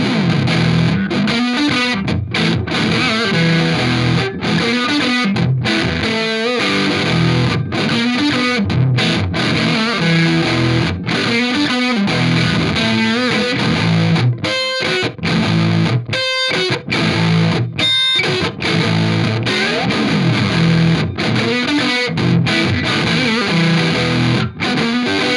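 Electric guitar played through a Pigtronix Polysaturator distortion pedal, thick saturated fuzz-like tone in continuous loud riffs and sustained chords with brief stops, no talking over it.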